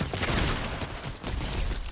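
Gunfire in a multiplayer shooter video game: a dense, noisy clatter of rapid shots rolls on without pause, loud and close, with no clear talking.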